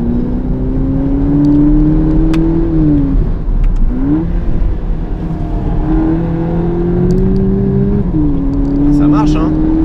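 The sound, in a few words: VW Polo GTI 2022 car driving and accelerating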